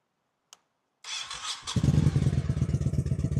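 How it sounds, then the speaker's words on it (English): A cruiser motorcycle engine starts up: a single click, a brief pause, then a whirring starter before the engine catches into a loud, close, rhythmic pulsing idle. "It's called a motorcycle engine."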